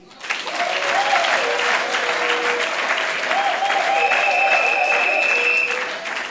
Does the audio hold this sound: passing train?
no